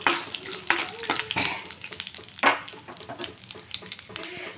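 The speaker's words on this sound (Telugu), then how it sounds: "చూడండి, ఇవైతే దోరగా వేయించుకోవాలి చిన్న మంట మీద." Tempering spices fry in oil on a low flame, a close crackling sizzle broken by several sharp stirring scrapes and pops, with no talking.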